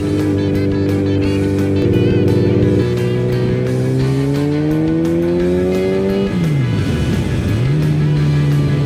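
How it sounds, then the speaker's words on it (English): A Kawasaki Z900RS motorcycle with aftermarket Delkevic exhaust pipes revs and rises in pitch through several gear changes, loud and close, with a sharp dip and recovery near the end. "it makes some nice noise through that Delcovics"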